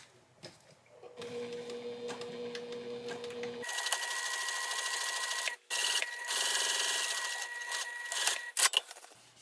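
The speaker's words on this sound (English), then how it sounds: "I'm just going to top stitch down this line to secure these pieces" Sewing machine top stitching down a fabric lining panel runs in steady buzzing bursts with short pauses between them, close and clear, with no talking.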